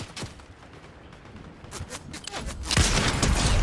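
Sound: gunfire from the Fortnite video game

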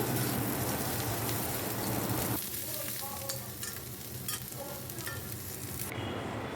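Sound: onions frying in oil in a pan

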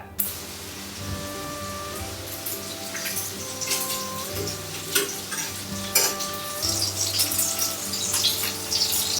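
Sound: pork ribs stir-frying with chili, garlic and spring onion

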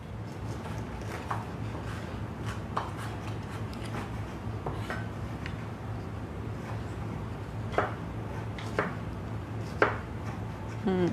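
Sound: chopping vegetables on a cutting board

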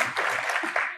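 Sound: studio audience applause

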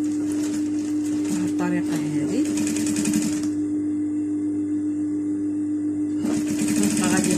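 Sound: sewing machine stitching a seam on a long coat

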